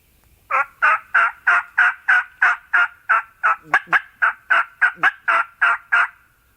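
A wild turkey gobbles on public land in a fast, rattling run of about fifteen loud, clear notes, with a few faint calls mixed in.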